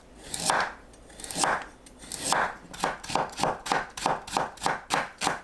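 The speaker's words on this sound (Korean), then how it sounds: "양파와 당근을 채 썰어줍니다." A kitchen knife chops onion and carrot into strips on a cutting board, the first few slow separate cuts giving way to a quick, even rhythm of crisp chops, heard close.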